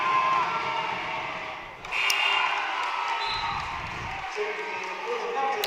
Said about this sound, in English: Crowd's trying to distract.